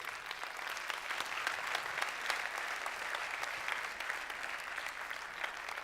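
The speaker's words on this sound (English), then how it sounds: "Let's give Stephen a huge round of applause." A conference audience at an executive event on AI breaks into sustained applause, a dense crackle of hands with individual claps standing out, fairly distant and even throughout.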